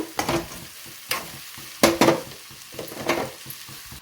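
Cooked rice is stirred into fried egg in a pan, giving a few loud, irregular spatula scrapes and clanks over a low sizzle, close up and without speech.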